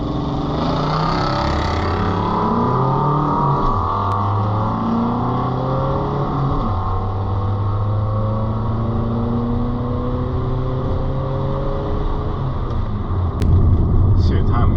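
A tuned 1.9 TDI diesel car with stock fueling launches at a drag strip, its engine droning loudly and rising in pitch through several gear shifts, with a voice audible at the start.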